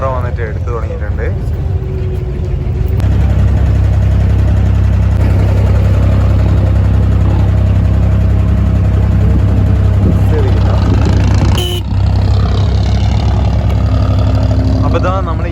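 An abra water taxi's engine drones steadily across Dubai Creek, a loud close low rumble that runs without a break as the boat gets under way.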